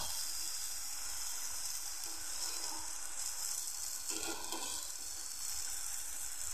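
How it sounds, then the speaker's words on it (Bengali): Spinach frying in a pan with turmeric and salt gives a steady, close sizzle and hiss throughout, with a brief stirring scrape near the middle and no talking. "শাকটার মধ্যে সামান্য কিছুটা হলুদ গুঁড়ো দিয়ে দিচ্ছি, পরিমাণ মতো নুন। এখন একটু নেড়ে চেড়ে দিচ্ছি।"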